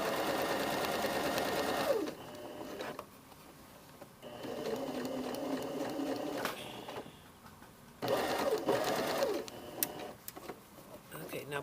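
A sewing machine stitching the lining sleeve into a jacket: close, steady mechanical whirring in runs of a few seconds, separated by pauses while the sleeve is turned.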